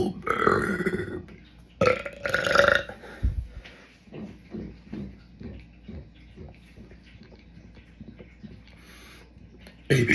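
A person burps their way through the alphabet, producing a long string of short, croaky, voiced belches in steady rhythm, each close to the microphone, after some louder opening burps.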